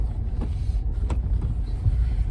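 Steady low rumble of a car being driven on the road, with continuous engine and tyre noise close by inside the cabin and a few faint clicks, no talking.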